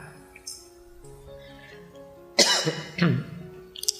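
Audience members cough several times during an evening lecture, with a loud burst of coughing midway and a quieter cough near the end over a faint room background.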